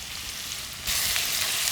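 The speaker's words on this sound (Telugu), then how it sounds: "ఒక ఆనియన్ని ఇలా కట్ చేసుకున్నాను, ఇది నూనెలో వేస్తున్నాను" Onion sizzling in hot oil with ginger garlic paste, after cumin and mustard seeds, for a home-style chicken curry; a steady close frying hiss that jumps louder partway through as more goes into the pan.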